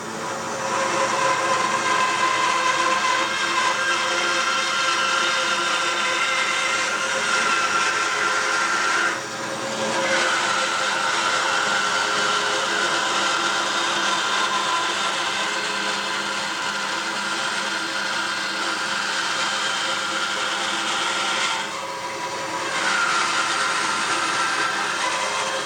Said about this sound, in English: So let's get the bandsaw on and off we go.